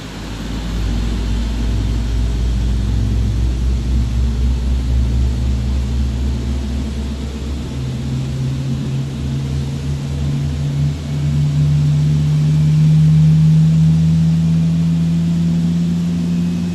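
Boeing 777 refuelling in a flight simulator sound pack: a steady, loud low-pitched hum of pumps and flowing fuel over a cabin-like background roar, with a tone that shifts and rises toward the end and no talk.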